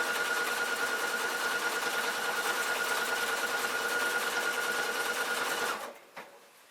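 A sewing machine stitching a manual buttonhole runs in a fast, steady whirring buzz for several seconds, close and clear, then stops abruptly, leaving a brief faint clunk.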